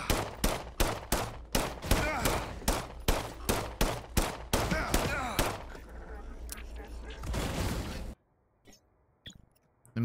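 Regular-bullet gunfire in System Shock (2023), about fifteen loud, evenly spaced single shots in a steady rhythm, then a trailing rumble and silence broken by faint clicks.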